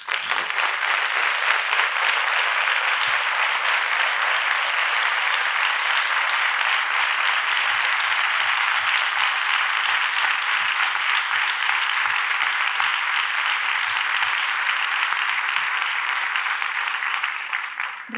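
Sustained, loud audience applause at a civic honors and distinctions ceremony in a town hall plenary session, dense and even for the full length with no talk over it.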